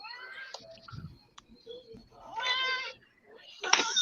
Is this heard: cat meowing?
yes